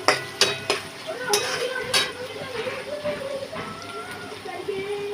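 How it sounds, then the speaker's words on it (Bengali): Onions fry in a pan while a utensil stirs and scrapes them, giving a soft steady sizzle broken by a few sharp clinks near the start. "পেঁয়াজটা অল্প ব্রাউন হয়ে গেলে আমি ওর মধ্যে চিকেনগুলো দিয়ে দেবো।"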